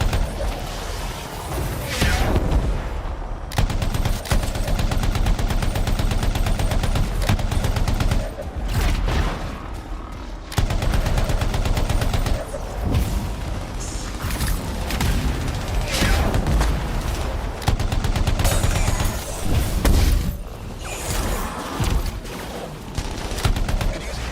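Sniper and weapon fire in the video game Anthem rattles in loud, dense bursts with booms and brief lulls, sustained throughout the combat.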